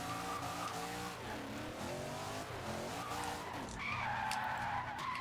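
Tires of a drift truck skidding in Forza Horizon 2, a continuous squeal with sliding pitch shifts over a revving engine, loud and close throughout.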